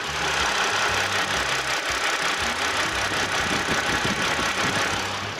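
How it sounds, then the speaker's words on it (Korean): BMW 523i engine idling quietly and steadily, a low continuous hum with faint ticking, close and unbroken, with no talking over it. "자, 마지막으로 엔진 소리 한번 들려드릴게요."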